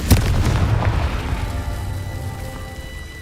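A Confringo fire spell blasts in Hogwarts Legacy, a loud close boom at the start that rolls and fades over a few seconds, heard alone.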